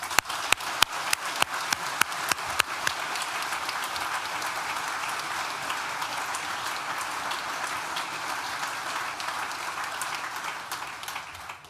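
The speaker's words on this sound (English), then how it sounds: "Please join me in giving them a very large and loud round of applause." At a Nottingham Business School graduation ceremony in July 2023, a few sharp, close individual claps lead into loud, sustained audience applause that holds evenly before tapering at the end.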